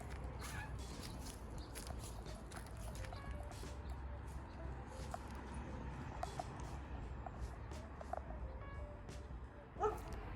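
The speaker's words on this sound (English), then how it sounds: "The neighbor's dog and Luna are barking." Two dogs bark outdoors by a cabin on open land, scattered yips and woofs coming from a distance through steady wind noise, with one sharper, closer bark near the end.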